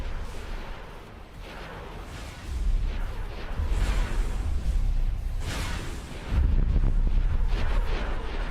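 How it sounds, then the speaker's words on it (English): In a Star Wars space game, a missile strikes its target and explodes, sending deep rumbling blasts through continuous battle noise. Two heavy booms swell up a few seconds apart. "Want to see that missile hit?"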